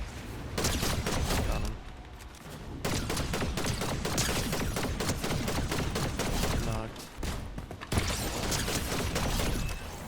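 Rapid bursts of Spire rifle gunfire in Fortnite, loud sustained volleys with mechanical clicks and a couple of short gaps between strings of shots.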